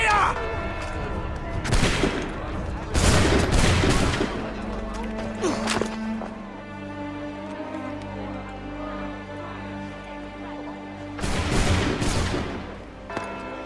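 Musket volleys crack out in Assassin's Creed 3, several loud bursts of massed gunfire, a pair early, another cluster mid-clip and a final volley near the end, with battlefield rumble and low game ambience between.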